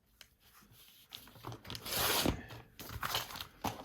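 Brown paper mailer being cut up into tags, with soft scraping, rustling and crinkling paper sounds that swell and fade irregularly, quiet and close with no talk.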